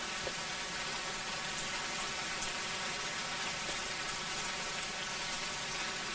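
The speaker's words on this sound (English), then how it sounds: "We've had such a terrible downfall of rain" Heavy rain coming down steadily, a dense, even hiss of drops with faint pattering on surfaces, constant and unbroken with no voices.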